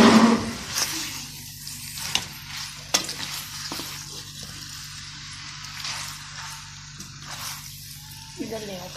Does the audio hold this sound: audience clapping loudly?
no